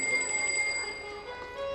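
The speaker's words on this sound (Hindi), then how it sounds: "वैसे ही घंटी बज गई।" A small bell rings with a clear sustained tone that slowly fades, faint and alone, with a second ring starting at the end.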